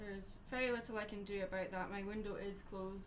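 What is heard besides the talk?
No everyday noise stands out behind the speech.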